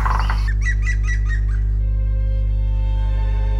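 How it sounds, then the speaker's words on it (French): A songbird, such as a chaffinch or wren, sings along a pilgrimage trail, a quick run of bright repeated chirps early on that fades into a steady loud low hum and drone. "Un oiseau chante en passant, le pinson, le troglodyte,"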